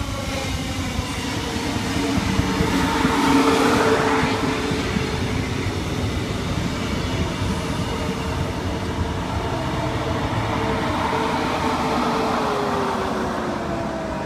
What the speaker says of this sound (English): SMU units 209 and 207, Ipswich service. This train will stop all stations.